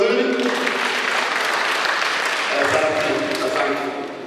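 Audience at a furniture shop launch event applauding, a dense steady clapping crowd that carries on for several seconds before tapering slightly, with voices mixed in.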